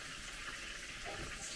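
Water pours into a pot of rice for cooking in a home kitchen, a brief, steady, close splashing stream heard on its own.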